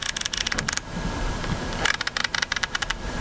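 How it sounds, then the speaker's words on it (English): The aperture ring on a Fujifilm X100VI camera lens turns in rapid runs of sharp, loud detent clicks, two bursts separated by a short pause, heard up close. "The ring itself makes a fairly loud clicking sound."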